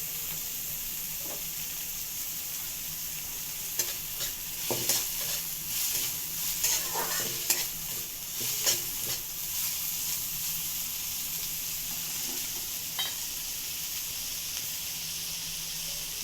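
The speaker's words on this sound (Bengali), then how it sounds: "তো এটাকে ভালো করে ভাজবেন যত দেরি নরম না হয়।" Onions and fresh winter vegetables frying in a pan for a masala Maggi, a soft continuous sizzle with scattered scraping stirs and clatters in the middle, close by and without talk.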